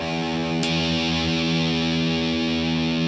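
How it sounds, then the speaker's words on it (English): A distorted electric guitar sustains a thick, steady chord through a Tantrum pedal boosted by a Klon-style pedal, loud and unbroken with a brief pick scrape near the start. "When I start engaging the boost"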